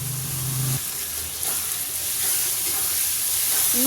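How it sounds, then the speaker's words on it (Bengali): Mutton with spices sizzles and fries in hot oil, a steady close hiss running throughout after a brief low hum at the start. "আমি এটা একটু কষিয়ে নিই"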